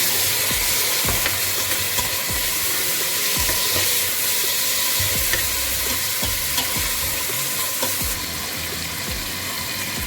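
Chopped tomatoes fry in a pot for yakhni rice, a steady loud sizzle and hiss broken by repeated scraping and clanking stirring strokes throughout, close up and without speech.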